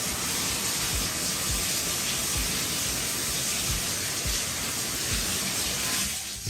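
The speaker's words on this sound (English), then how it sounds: "It just says run the water" Water pours steadily from a tap into a bathtub being filled to wash selvedge denim jeans, a dense continuous rushing hiss that stops abruptly near the end.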